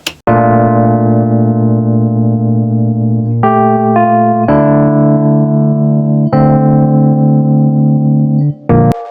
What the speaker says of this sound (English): a very standard Fender Rhodes that comes from the Arturia virtual instrument collection